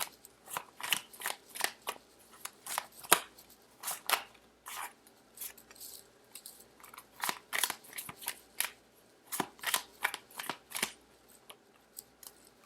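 Tarot cards are shuffled in a quiet room, giving repeated crisp riffling bursts in an uneven rhythm, close to the microphone, with no talking.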